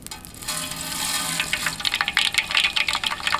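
Mustard seeds land in hot oil for a Kerala-style beef ribs dish, setting off a rising hiss and a rapid crackle of popping that grows louder and busier toward the end, close up with no talking.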